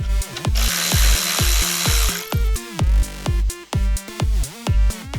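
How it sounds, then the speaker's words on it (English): An impact tool rattles in repeated short bursts with a high whine, removing strut mount nuts from the strut tower of a BMW E46 325i, loud and close, with brief pauses between bursts. "Next, I'm removing the 3 nuts on both left and right sides for the strut mounts off the strut tower."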